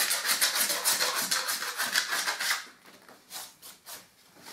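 Blade slicing through set expanding foam filling a gap in a wall, a steady rasping cut for a few seconds that then drops to fainter, intermittent scraping strokes.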